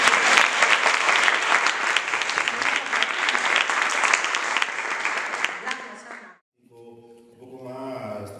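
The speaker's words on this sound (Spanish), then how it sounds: "Un fuerte aplauso." An audience at an anniversary event against sexism applauds strongly for young women who shared their experience, thick sustained clapping for about six seconds that cuts off abruptly, followed by a voice speaking.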